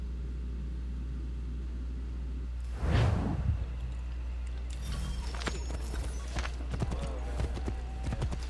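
Rhythmic horse hoofbeats in Assassin's Creed 3 clip-clop over a steady low engine-like hum, with a loud whooshing swell partway through and scattered clatter afterward.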